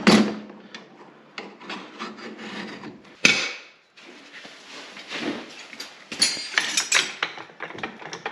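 A long bolt is worked out of the rod end of a 2020 Ski-Doo XRS snowmobile shock, giving close metallic rubbing and scraping in irregular bursts with a few sharper knocks.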